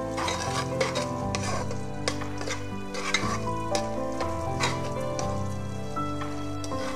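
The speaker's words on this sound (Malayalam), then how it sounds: "ഈ വീന്താലു മിക്സ് ഇതിലേക്ക് ചേർത്ത് കൊടുക്കുക. പച്ചമണം പോകുന്നത് വരെ ഇതൊന്ന് ഇളക്കി കൊടുക്കാം" Beef vindaloo masala fries in a pan under constant stirring, a loud, near sizzle mixed with repeated metallic scraping and clinking of a spoon against the pan.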